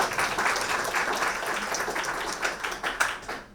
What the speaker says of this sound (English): a round of applause for these great cards